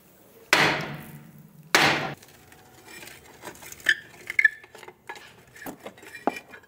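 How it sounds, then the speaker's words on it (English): Hammer blows ring out against a seized rear brake drum on a 2006-2011 Chevrolet HHR, two loud, close metallic strikes followed by lighter clinks and taps of metal. "I'm just going to use my hammer on different parts of it and hopefully break it free."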